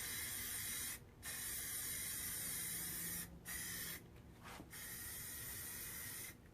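Hissing bursts of spray paint coat a small DIY miniature fireplace in a light layer, several close sprays broken by short pauses, with no talking.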